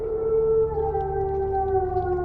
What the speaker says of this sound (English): I hear a wolf howling.